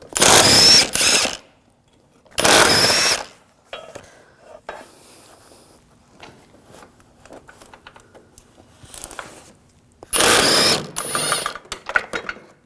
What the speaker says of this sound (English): Now we're going to take off the bumper bolts. Use a 13mm socket.